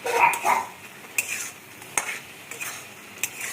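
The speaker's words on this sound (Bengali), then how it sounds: "মশলাটা ভালো করে মেশাতে হবে" A spoon scrapes and knocks in a pan as spices and garam masala are mixed into chicken cooking, giving soft sizzling under irregular metallic clinks and scrapes, close by.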